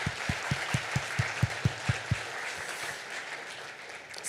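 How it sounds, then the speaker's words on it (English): Audience applause closing a keynote session at a vaccine and immunization conference, a hall of clapping under a row of evenly spaced low thumps in the first half, then a thinner sustained patter. "please join me for a warm round of applause for our keynote speaker"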